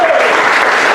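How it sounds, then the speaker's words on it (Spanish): Church congregation at a Spanish-language service clapping together, a brief, loud, dense wash of hand claps filling the room. "Denle palmas al Señor."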